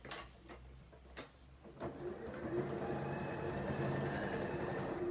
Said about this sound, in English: I'm just going to stitch across the bottom there